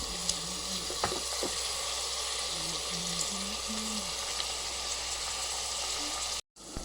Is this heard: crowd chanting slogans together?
no